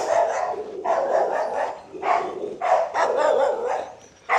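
A dog barks repeatedly on a property in Paraguay, loud and close, in a steady run of about six barks spaced roughly half a second to a second apart.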